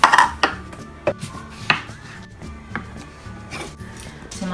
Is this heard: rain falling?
no